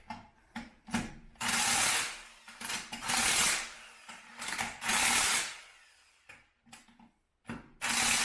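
A ratchet tightens bolts on the suspension of a 1993 Pontiac Firebird project car, giving close, loud bursts of rapid clicking strokes separated by short pauses.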